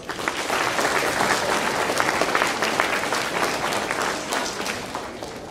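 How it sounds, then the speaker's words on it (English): A crowd applauds steadily, dense clapping at a strong, even level for several seconds with no voices over it. "Give them a round of applause"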